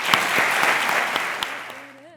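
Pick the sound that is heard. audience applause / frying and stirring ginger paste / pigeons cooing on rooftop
audience applause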